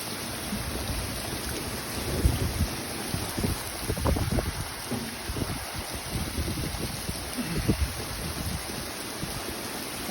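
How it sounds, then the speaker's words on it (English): Rain falls outdoors in Las Vegas as a steady, dense hiss, with gusty wind noise on the microphone and low rumbles rising and falling throughout. "Let it rain."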